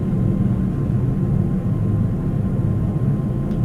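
An airplane's engines run up on the ground before takeoff, a steady low rumbling drone that stays loud and even, with no talking over it.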